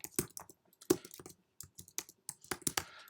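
Keys clack on a computer keyboard in short irregular bursts of typing, close and crisp, with brief pauses between strokes while entering code into a Jupiter Notebook.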